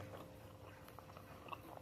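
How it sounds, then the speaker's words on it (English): A person chews breakfast food at very low volume, with faint soft mouth clicks and mastication over a steady background hum. "like right now I'm chewing"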